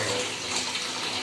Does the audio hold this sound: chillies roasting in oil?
no